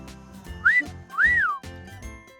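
Two rising-and-falling whistles, one short and one longer, sound over soft background voices and music, a person imitating a giraffe call.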